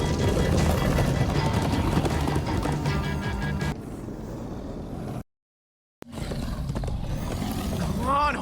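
Horses gallop in Minecraft: Story Mode, with a steady dense pounding that mixes with roaring chaos and shouting voices. A brief dead silence cuts in before the galloping and yelling return.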